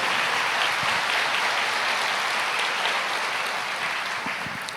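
A church congregation applauds together, a steady wash of clapping from many people that fades slightly toward the end.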